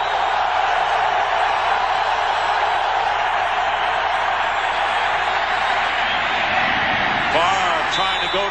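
Dense, steady roar from a stadium crowd at a Kansas City Chiefs versus Green Bay Packers football game, a continuous wash of noise that swells slightly near the end with faint whistles or shouts rising above it.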